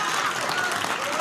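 Students in an audience clap steadily through a short stretch, a dense continuous wash of applause at a lecture-style event, with other voices blended into the noise.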